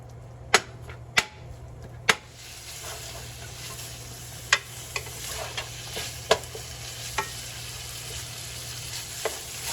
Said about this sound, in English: our next step is we're going to brown some beef.